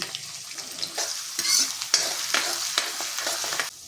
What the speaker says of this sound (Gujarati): તો હવે આપણે તેની અંદર 1 ચમચી જીરું ઉમેરીશું। સાથે જ મીઠા લીમડાના પાન ઉમેરીશું। ઝીણું સમારેલું લસણ ઉમેરીશું।